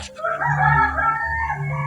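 A rooster crows loudly and close by, one long drawn-out call that holds steady for nearly two seconds with no talking.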